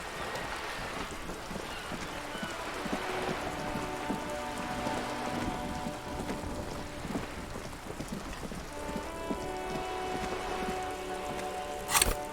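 Steady rain falls in the video game Disco Elysium, a continuous dense patter on surfaces, with a brief sharp knock near the end.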